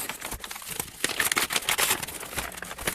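Nova Poshta plastic mailing package with cardboard inside being unpacked, giving close, irregular crinkling and rustling bursts that grow busier midway.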